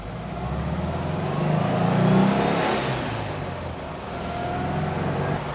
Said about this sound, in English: So I'm out cruising around today in the 356.